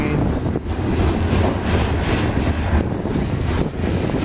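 A steady, loud rumble of a BNSF freight train rolling past close by, with broadband rail noise and some wind buffeting the microphone throughout.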